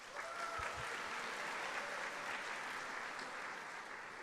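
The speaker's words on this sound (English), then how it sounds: "So let's give them a round of applause." Audience at the PennApps XVI hackathon opening ceremony clapping in a sustained, dense burst of applause that fills the room evenly, tapering slightly at the end, with no talking over it.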